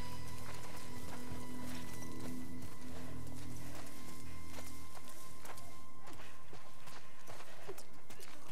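A horse named Martha clip-clops in The Last of Us Part 2 video game, faint steady hoofbeats over a low ambient background, with no talk.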